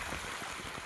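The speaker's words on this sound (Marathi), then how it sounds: "तर मित्रांनो परत एक इथं पाण्याचा छोटासा झराचा धबधबा आहे." A small waterfall of spring water on a mountain trail in the Sahyadri hills gives a steady, close, broadband rushing splash with no breaks over the brief moment.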